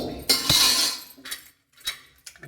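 A metal lid is fitted onto a pressure cooker holding rajma and its cooking water, with a loud scraping clank followed by a few lighter metallic clinks, close up and without talk.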